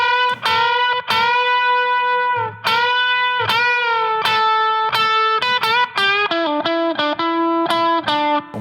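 A distorted electric guitar plays a blues solo lick, a phrase of sustained, bending notes and quick repeated picks, loud and close with no talking.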